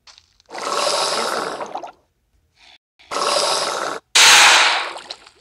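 A mosasaurus in Minecraft dies with sharp, harsh bursts that resemble gunshots. Three separate blasts sound loud and close, and the last one is the brightest and most abrupt.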